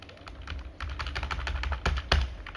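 Quick, close typing on a computer keyboard, a steady run of crisp key clicks with a couple of louder strikes near the end.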